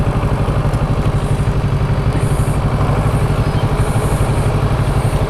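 A motorcycle engine idles steadily up close during an A2 licence manoeuvre, with clutch and throttle work keeping a constant, low chugging rumble through the clip.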